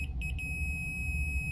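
A continuity tester held against the metal housing of a 120V Cadet wall heater gives a few quick high beeps near the start, over a low steady room hum.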